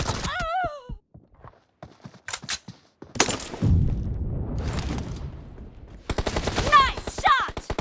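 Gunfire in a PUBG Mobile team deathmatch in a warehouse during a pistol challenge, with scattered single shots followed by a dense burst of rapid fire, and game announcer voice lines over the top.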